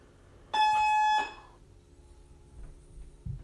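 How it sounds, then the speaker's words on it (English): A home doorbell gives one loud electronic tone lasting under a second, then the room falls quiet. "Somebody just ringed my door."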